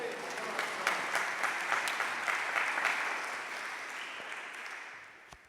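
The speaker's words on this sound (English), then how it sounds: "please welcome our next presenter with a round of applause" An audience at a ministry class gathering applauds to welcome the next presenter, with dense, continuous clapping that tapers off toward the end.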